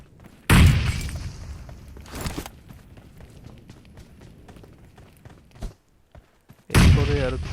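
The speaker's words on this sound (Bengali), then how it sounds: "আনোয়ার ভাইরে বলতেছিলাম যে একটু তো ওকে আস্তে ধীরে সুন্দর মতো গ্রেনেড দিয়ে উড়াবো বললাম।" Grenade blasts in the mobile battle royale game PUBG Mobile: two loud booming explosions, one near the start and one at the end, with game footsteps and movement noise in between, no talking.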